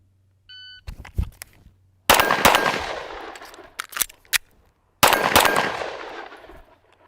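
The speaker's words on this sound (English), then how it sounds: "let's go ahead and do a couple of shots with that, get a reload in, and see what that looks like from a two-handed approach" Pistol gunfire on a range, drawn from appendix carry with a reload: a few sharp metallic clicks, then a loud close shot, a rapid cluster of shots, and another heavy shot with ringing decay, no talk.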